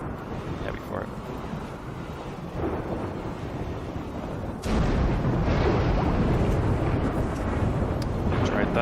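A thunderstorm in the RimWorld video game rumbles as a low, broad wash of rolling noise that swells louder about halfway through and stays heavy to the end.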